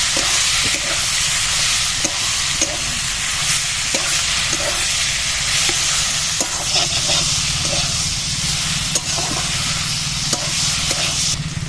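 Sattu stirred into a sautéed spice mix in a frying pan, a steady close sizzle and hiss with regular scraping strokes of the spoon throughout, no voices.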